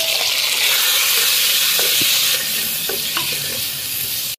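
Loud steady sizzle of a tempering in hot oil as drumstick pulp and tomato pieces are stirred in, with a few soft scraping stirs over the continuous frying hiss.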